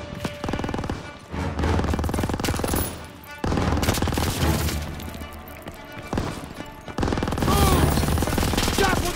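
Sustained machine gun fire fills a chaotic Call of Duty WW2 street battle, dense rapid bursts with crashing impacts and rumbling booms layered throughout, loud and continuous with brief dips between volleys.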